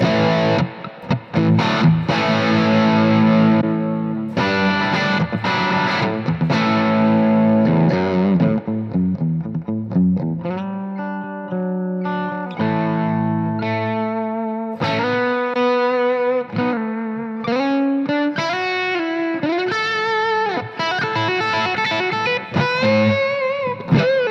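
A Gibson Les Paul electric guitar in a moderately driven rather than high-gain tone, playing sustained notes and bent, singing lead phrases with vibrato, loud and up front with no talking over it.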